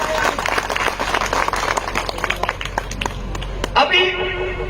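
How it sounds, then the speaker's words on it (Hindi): A crowd at a speech claps in scattered bursts over several seconds, mixed with the speaker's amplified voice, then a brief louder burst near the end. "तालियां बजाएं, बहुत बढ़िया।"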